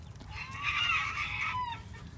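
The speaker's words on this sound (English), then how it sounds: "Look at my beautiful silky rooster right there" A silkie rooster crows nearby at morning chore time, a single drawn-out call lasting about a second, with a short cluck at the end. Faint low farmyard noise sits underneath, and no one speaks.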